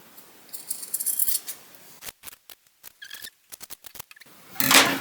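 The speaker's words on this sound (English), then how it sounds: "here I'm gonna cut off the excess that I have over here" Scissors snip away excess fabric for a halter neck tiered dress, a string of short, crisp cuts and rustles close to the mic, then a louder burst of fabric handling at the end.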